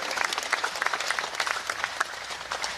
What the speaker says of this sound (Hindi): दोनों हाथ उठाकर ताली बजाकर उनका स्वागत कीजिए